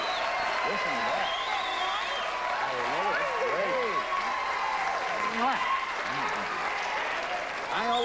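Studio audience at a 1980 Password Plus game show taping, applauding and cheering in a broad, continuous wash of clapping that holds steady for the whole stretch while someone talks over it.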